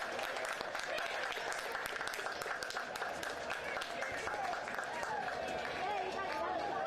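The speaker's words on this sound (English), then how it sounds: "gets an applause from the crowd" Crowd applauding in the stands at a One Knoxville SC versus Chattanooga Red Wolves SC soccer match, a continuous patter of clapping mixed with cheering and crowd chatter, steady and fairly distant, with a commentator talking over it.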